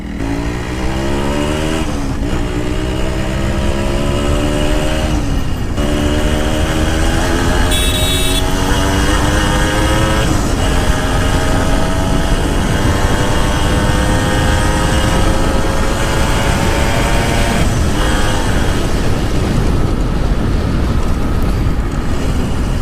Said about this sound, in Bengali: জাস্ট থ্রোটলটা ধরে রাখলাম, এমনিতে 80 উঠে গেল।